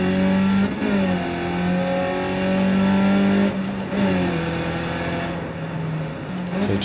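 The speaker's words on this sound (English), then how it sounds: "seeing how quick I can blip the throttle and change gear" An open-wheel race car engine in the iRacing sim drones loudly and steadily, its pitch dipping and climbing again as the throttle is blipped through several quick gear changes.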